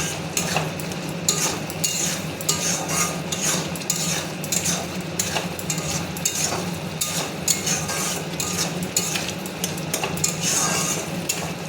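A prawn curry cooks down in a pan while a utensil stirs it, giving a continuous close sizzle broken by repeated scraping and clinking against the metal, with no voices.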